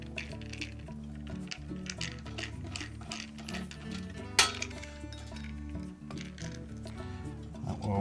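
Hex head screws (3/4 inch) being removed from a refrigerator dispenser's ice crusher motor mounted on a metal frame: bright metallic clinks and taps scattered throughout, with one sharp louder clank partway.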